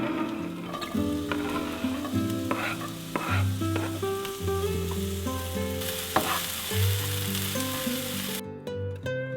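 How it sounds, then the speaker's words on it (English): Garlic and red onion frying in heated oil, a steady, close sizzle with occasional stirring, heard under background music. "Now that my oil is heated up, I'm going to add the garlic and the red onion."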